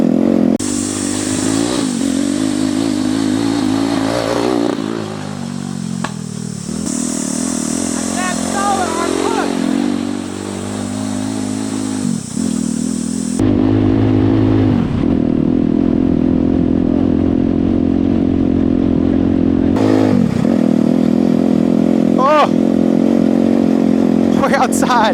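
Turbocharged Barbie mini jeep ridden outdoors while drifting, its small engine buzzing and revving up and down continuously, close and loud, with excited talking over it.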